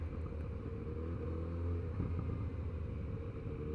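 A Kawasaki Z900RS motorcycle engine pulls hard in first gear, a loud, steady low rumble with a continuous droning exhaust tone and no pauses, close by and free of talk.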